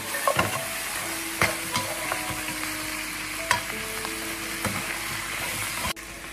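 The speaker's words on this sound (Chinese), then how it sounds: "再放入刚才准备好的大料，再将它翻炒，将调料炒香" Pork ribs stir-fry in a wok with ginger, scallion and star anise, a busy sizzle under repeated metal spatula scrapes and clanks, close and lively throughout.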